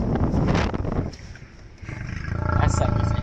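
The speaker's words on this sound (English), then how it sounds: "This lion didn't like how close the safari jeep was." A lion roars at a nearby safari jeep in two loud, deep bursts separated by a short lull, with people's voices mixed in.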